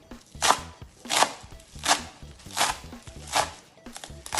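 Celery chopped with a knife on a cutting board, six evenly spaced crisp chops close by, each a sharp crunchy strike with no talking.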